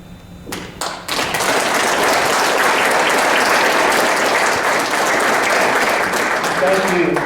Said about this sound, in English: Thank you for your kind applause.